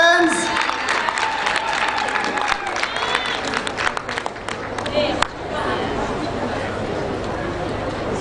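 Audience applause at a World AIDS Day launch event, a dense burst of many hands clapping that swells over the first few seconds and then thins toward a fainter patter, with voices audible over it.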